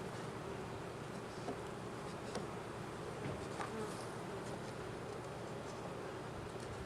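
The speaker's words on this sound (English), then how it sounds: "Bottom one, there are bees on it." Many bees buzz steadily close by around a hive in a dense, continuous drone, with a few individual insects passing near.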